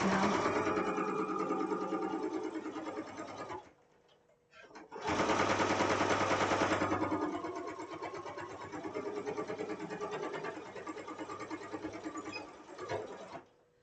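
A household sewing machine stitches in loud close bursts, stopping briefly and then running again, with people talking around it during sewing of a Stray Kids Hyunjin outfit.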